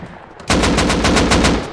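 Rapid automatic gunfire in the survival video game Rust, a sudden loud burst of about ten evenly spaced shots fired in quick succession after a moment of quiet.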